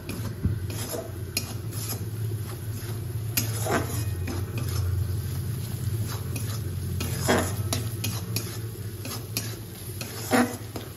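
Okra sautéing in a pan with chili, cumin and coriander powder, a steady low sizzle with intermittent scraping stirs and a few sharp utensil clicks against the pan, close and moderately loud.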